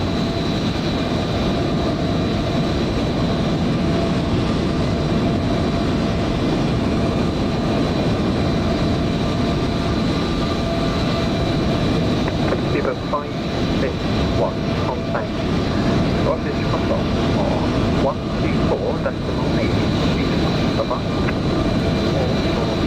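KLM 737 jet engines in Microsoft Flight Simulator 2020 give a steady, loud whine and roar, continuous throughout, with someone talking at points.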